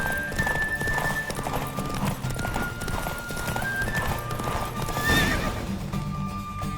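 In The Witcher 3 video game, a horse neighs and whinnies over rapid, steady hoofbeats at a gallop during a race, with a dense rumbling background throughout.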